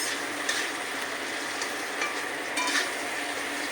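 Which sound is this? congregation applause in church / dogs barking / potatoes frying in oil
potatoes frying in oil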